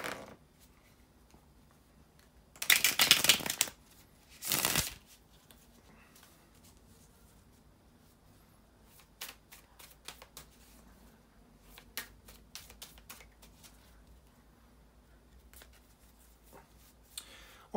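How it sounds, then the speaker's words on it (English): Tarot cards being shuffled by hand, two quick riffling bursts close up followed by scattered soft taps and flicks of cards. "bear with me a second, guys, to shuffle the tarot cards"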